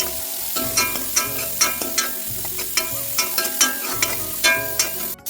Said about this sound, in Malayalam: ഇതിലേക്ക് കറിവേപ്പില ഇട്ട് കൊടുക്കാം.